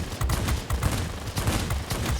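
Cannons on an XP-54 fighter plane fire in World of Warplanes, rapid, dense bursts of booming shots in a nearly continuous fusillade, loud and close, with no voices.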